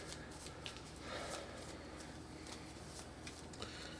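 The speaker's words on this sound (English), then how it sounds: "I'll shuffle my hand." Playing cards from a Marvel United board game are shuffled by hand, a soft, quiet run of papery riffles and flicks repeating in quick bursts for a few seconds.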